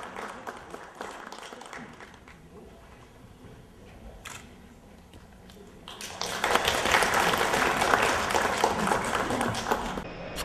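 Applause from the whole hall at a district award ceremony in Belarus, swelling from a light patter of scattered claps into a fuller, louder burst of clapping in the second half.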